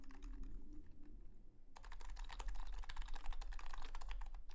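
Close, rapid keystrokes on a lubed Yui660c keyboard fitted with new domes, a dense run of soft, muted clacks with a brief lighter pause before the typing picks up again, with no voices over it.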